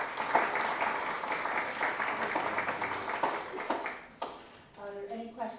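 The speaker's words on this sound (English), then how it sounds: "We'll give you another round of applause." A round of applause at a board of education workshop, scattered clapping from a modest audience that tapers off, followed by a voice speaking near the end.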